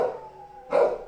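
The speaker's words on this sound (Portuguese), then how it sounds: "Os cachorros estão latindo aqui" A dog yips and howls at close range, a drawn-out tonal whine followed by a sharper, louder bark-like burst near the end, heard on its own without talk.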